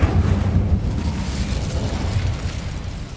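Incendio fire spell cast in Hogwarts Legacy: a loud, dense whooshing roar of flame with a burst at the start, sustained and close for a few seconds, no talk over it.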